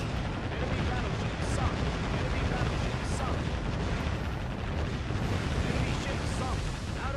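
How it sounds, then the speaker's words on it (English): Warship main guns in Warship Gunner 2 fire repeatedly, a dense, continuous roar of booming blasts that blur together at loud, close range with no pauses. "let's just keep firing the main guns like a maniac"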